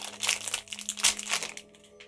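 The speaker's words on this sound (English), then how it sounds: "this plastic bag's a bit different from the others." Plastic bag from a Spiderman Puzzle Palz blind box crinkling up close in a quick burst of crackly rustles that taper off near the end, over a faint background hum.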